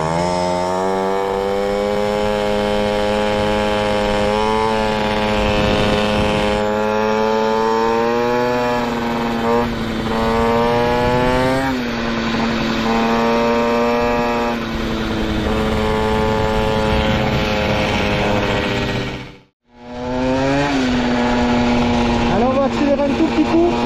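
A Peugeot 103 SPX moped with an Airsal T5 exhaust extension revs up and down, a loud, buzzy two-stroke whine rising and falling repeatedly, cut briefly near the end before restarting; someone talks over it.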